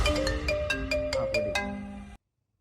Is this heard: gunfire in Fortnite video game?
no